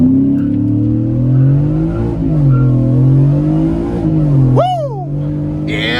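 A supercharged single-cab Ford F-150 pulls away hard from a stop, its loud engine rising in a strong rev under the driver, with a sharp whine and a screeching burst near the end.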